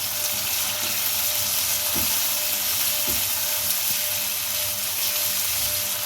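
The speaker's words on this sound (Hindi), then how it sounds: "1 tablespoon lemon juice, 1 tablespoon soya sauce और 1 टेबलस्पून चिली सॉस ये डालकर से मिक्स करें।" Chicken being stirred with lemon juice, soy sauce and chili sauce in a pan for spicy chicken pasta: a steady close sizzle with soft scraping stir strokes, no talk.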